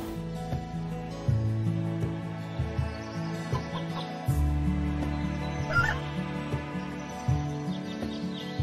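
Chickens clucking in the farming video game Doraemon Story of Seasons, a run of short, repeated clucks over a looping, tuneful background melody, clear and fairly loud.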